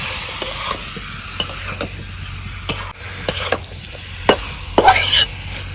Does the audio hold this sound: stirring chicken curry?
yes